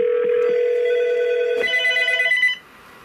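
Landline telephones on a home POTS line ring together in a steady electronic bell tone, loud and close, then the ringing cuts off near the end.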